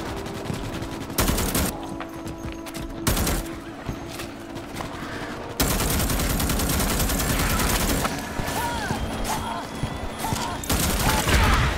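A heavy infantry gun in Starship Troopers Extermination fires in long, loud automatic bursts with brief pauses between them, close and continuous over battle noise.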